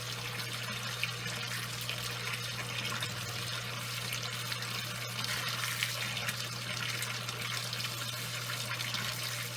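Water being siphoned out of an aquarium runs in a steady, continuous gush and trickle, close by, over a constant low electrical hum from the tank equipment, with no talking.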